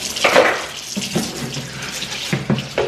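Dishes being washed by hand under running tap water in a home kitchen while cooking, bursts of splashing water at close range with clinks and pauses in between.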